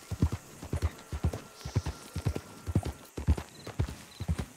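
Hooves of a ridden horse clip-clop steadily at a walk on hard ground, close and fairly loud, in an even repeating rhythm of about two strikes per beat.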